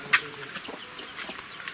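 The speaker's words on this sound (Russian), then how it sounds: "Две курицы дерутся" Hens squabbling in a village yard: a sharp squawk near the start, then scattered clucks and short calls, fairly close and moderately loud.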